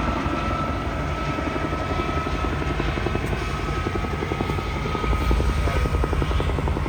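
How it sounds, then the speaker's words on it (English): Helicopter flying overhead at the Oshkosh 2023 airshow, a steady, loud rotor drone with rapid blade chop that holds for the full stretch and swells slightly near the end. "helicopters have resumed giving flights"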